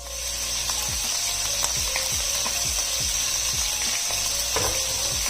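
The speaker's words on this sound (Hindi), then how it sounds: "अब इसके अंदर आधा किलो के करीब मैं चिकन डाल दूंगी और चिकन को भी हम अच्छी तरह फ्राई करेंगे।" Chicken frying in oil with onions crackles and sizzles steadily, with a faint hiss. A regular mechanical ticking repeats underneath, and no one speaks.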